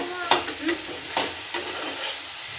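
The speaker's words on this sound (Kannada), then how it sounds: "ಎಣ್ಣೆಲಿ ಸ್ವಲ್ಪ ಚೆನ್ನಾಗಿ ಫ್ರೈ ಮಾಡಿಕೊಂಡು" Raw banana pieces frying in oil on medium heat make a soft continuous sizzle, broken by four distinct scraping stirs of a spatla spaced roughly half a second apart, close up and with no talking.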